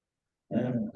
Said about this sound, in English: You better not bark.